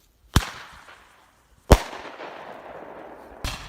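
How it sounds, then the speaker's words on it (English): Pyro Diablo 8-shot Roman candles firing outdoors at night: three sharp, loud pops spaced over a few seconds, each followed by a fading crackling tail. "This is Roman candles by the brand Pyro Diablo."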